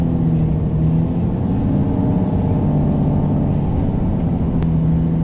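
A Mercedes-Benz Arocs 4663 SLT 8x8 truck hauling a trailer off-road over desert sand dunes in Dubai drones with a loud, continuous low engine rumble and steady whir, close and unbroken throughout.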